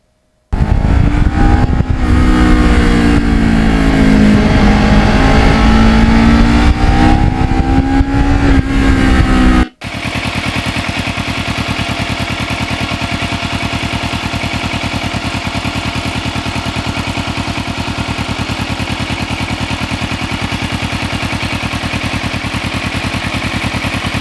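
Kawasaki Ninja motorcycle on a wet road, a loud rushing engine tone rising and bending for several seconds, then a sharp cut to a steady broad roar of wind and tire hiss with a low engine drone underneath.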